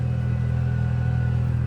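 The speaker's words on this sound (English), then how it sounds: "That's all engine braking as well." A car engine-brakes down a steep mountain decline, giving a constant low rumble and steady drone heard from inside the vehicle with no talking.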